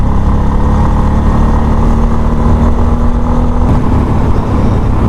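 A Bajaj Pulsar F250 motorcycle ridden solo on a mountain road, its engine a steady, loud, close drone with constant wind rush, no talking.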